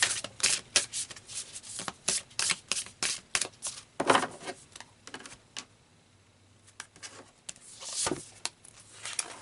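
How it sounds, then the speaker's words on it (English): Oracle cards shuffled close up in rapid papery riffles and taps, a dense run of quick bursts that thins out and then resumes briefly, fairly quiet with no voices. "so let's pull another card"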